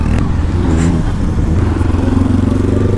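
A group ride of sport motorcycles, including a Benelli TNT 600i, KTM Duke 250, Honda CBR 250, CFMoto 250 twin, Pulsar NS 200 and Yamaha FZ-15. Engines drone loudly and continuously at close range, with a rough, pulsing exhaust note.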